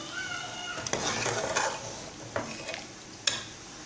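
Boiled chickpeas tipped into a hot cooking pan for an egg and chickpea curry, giving a few soft thuds and stirring scrapes over a steady low sizzle, with sharper clinks of utensil on metal.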